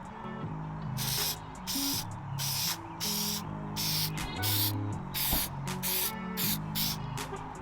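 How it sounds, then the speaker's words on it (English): Repeated bursts of Plastidip rubber coating sprayed from an aerosol can onto Honda Civic emblems, roughly a dozen short hissing sprays in an even rhythm, close by, with quieter low handling noise between them. "we're gonna go ahead and spray this again with Plastidip"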